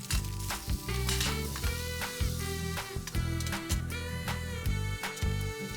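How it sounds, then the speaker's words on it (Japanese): Frozen bacon and rolled chikuwa frying in a single frying pan for a bento, a steady sizzle beneath loud rhythmic background music. "ベーコン、くるくるちくわを凍ったまま焼きます。"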